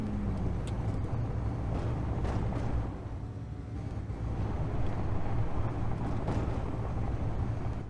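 A six-wheeled rover on 5x5 off-road wheels climbs a hill in Space Engineers, giving a steady, loud, low engine rumble with a rough grinding texture that sags briefly partway through and then rises again.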